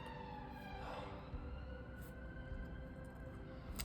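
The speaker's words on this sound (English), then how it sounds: "Oh, that's such a pain, that siren." A city emergency vehicle siren wails faintly in the distance, a thin sustained tone over low background rumble, with no one speaking.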